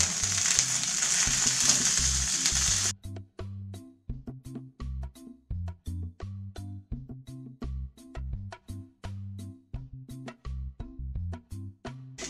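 Tomatoes, garlic cloves and onion roasting in a pan on aluminum foil for red chilaquiles, a loud crackling sizzle at first, then rapid sharp pops and spits that repeat in irregular bursts, close and with no talk.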